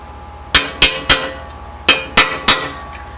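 Six sharp metallic hammer blows on transmission parts of an R50 Mini Getrag 5-speed gearbox, loud and close, struck in two groups of three with brief ringing after each hit.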